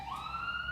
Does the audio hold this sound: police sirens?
yes